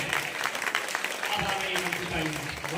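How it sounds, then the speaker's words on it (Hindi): Thin, scattered applause from the audience at a Hindi kavi sammelan during a recital of a poem about Captain Manoj Pandey, fairly faint, with a voice speaking over it as it fades. "बहुत कमजोर तालियां आप लोगों की"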